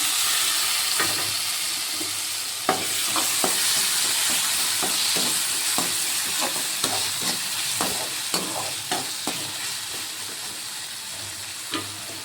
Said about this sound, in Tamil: வெங்காயம் லைட்டாக ஃப்ரை ஆகிடுச்சு, தக்காளி ஆட் பண்ணிக்கலாம்